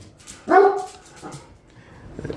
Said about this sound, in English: Yes, you a good guard dog.